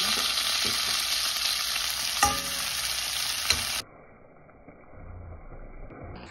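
Bitter gourd (ampalaya) drops into a hot pan for pinakbet with fish bagoong and sizzles loudly in a steady broadband hiss, with a couple of stirring knocks, then the frying drops to a quieter simmering crackle.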